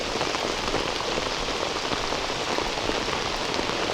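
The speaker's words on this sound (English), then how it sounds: "It's raining pretty good now." Steady rain pours onto the water and surroundings at Meadow Creek Park during a kayak outing, a dense, loud, even patter of drops with no talking.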